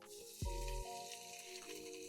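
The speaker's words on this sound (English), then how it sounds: "Over medium high heat, get us some oil in our pot. About 2 tablespoons. Let's get our sausage in there." Andouille sausage drops into about two tablespoons of oil in a pot over medium-high heat, landing with a dull thump and then a steady, close sizzle that keeps hissing with no talk.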